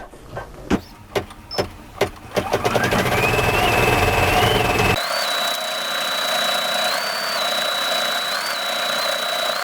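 An embroidery sewing machine stitching a tiled scene starts with a few sharp clicks, then runs up into a steady loud whirring hum with a thin high whine that shifts pitch, continuing close and alone.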